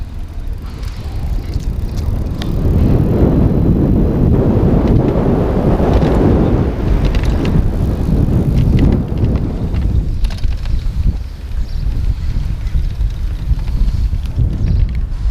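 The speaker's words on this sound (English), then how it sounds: "I'm going to take it apart across the grass because I want to see how these fenders sound." Blix Aveny e-bike rolling across grass, with fenders rattling in a steady rumbling clatter and some wind buffeting, loud and close throughout.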